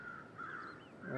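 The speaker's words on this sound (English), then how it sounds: "I hear the crows, but that's only because I believe the crows over there." Crows caw in the survival game The Long Dark, several harsh calls overlapping in a steady wild ambience, moderately distant and fairly quiet, with no voices.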